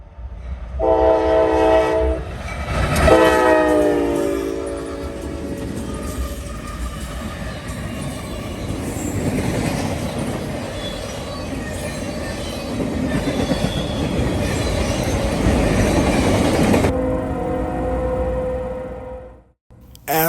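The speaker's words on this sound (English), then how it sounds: "Rack train M205 heads west by 159." A CSX rack freight train, M205, heads west on the Indy Line, opening with loud sustained horn blasts, then a long rolling roar of wheels and cars passing close by until it cuts off near the end.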